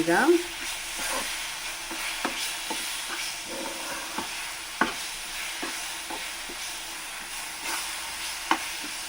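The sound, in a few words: stirring mango laddu mixture in a pan on low flame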